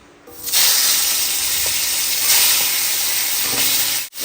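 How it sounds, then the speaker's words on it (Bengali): A fish head frying in hot oil, a loud, dense, continuous close-up sizzle and hiss that starts abruptly and runs steadily before cutting off near the end, with no talk. "এইটাকে আমি ভালো করে এবার তেলে ভেজে নেব"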